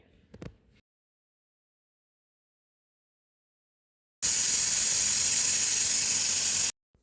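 After a brief clatter and a long silence, a pressure cooker holding biryani releases steam in a loud, steady hiss lasting a few seconds before cutting off.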